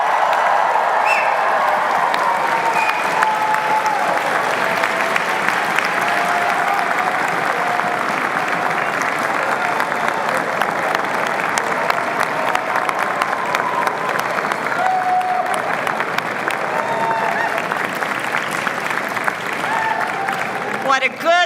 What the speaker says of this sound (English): please join me in applauding the Beedie graduating class of